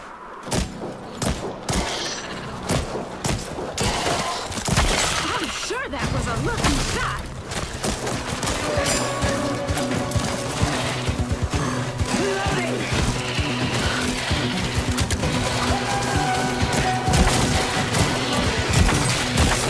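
Gunfire and impacts from shooting at enemies in the VR game After The Fall, a dense run of repeated shots and thuds that goes on steadily throughout, mixed with game music and effects.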